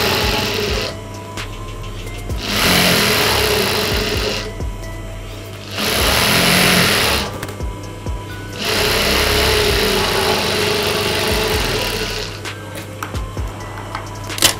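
A sewing machine stitches the fold of a Tamil-style blouse back panel in three loud sustained bursts, each a couple of seconds long, separated by short pauses with low mechanical hum.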